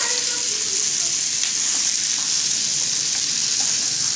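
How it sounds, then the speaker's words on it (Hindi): Spices and a bharose mixture frying slowly on a low gas flame, a dense, even, hissing sizzle held close and steady throughout, with no speech. "ये सब डाल के धीमी गैस करके थोड़ा थोड़ा भूनना है अच्छे से फ्राई करना है"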